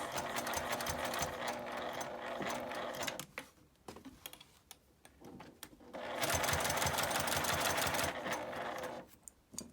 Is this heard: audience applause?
no